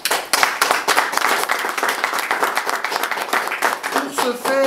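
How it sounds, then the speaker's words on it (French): Audience at a convention speech applauding, a dense patter of many hands clapping steadily and fairly loud, with a brief voice emerging near the end. "on peut les applaudir."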